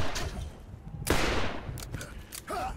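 Pistol and shotgun fire in the video game Borderlands crack out in a few loud, close bursts with a hard blast in the middle, mixed with game effects and faint voice sounds.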